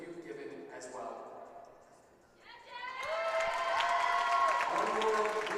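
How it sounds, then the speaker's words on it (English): Crowd applause for seniors at a Kalamazoo vs. Calvin women's basketball game. It follows an amplified announcer's voice and swells into broad clapping mixed with sustained organ-like tones, with the clapping moderately loud and somewhat distant. "One more round of applause as we celebrate these seniors for their contributions to Kalamazoo women's basketball."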